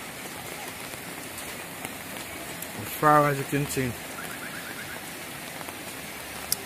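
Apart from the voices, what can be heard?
rain falling during flooding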